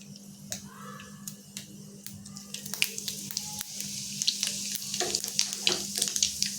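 Mustard seeds and cumin splutter in hot oil for a vegetable bhaji, with sharp scattered pops over a steady sizzle that thicken toward the end. Close and fairly quiet, with no talk.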